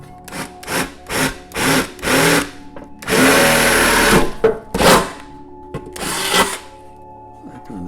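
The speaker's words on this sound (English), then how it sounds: "I drill a bigger hole and then install a grommet" A power drill bores a larger hole through a soundbar housing in short repeated bursts, each spin-up whining briefly before stopping, with one longer grinding run in the middle; loud and close.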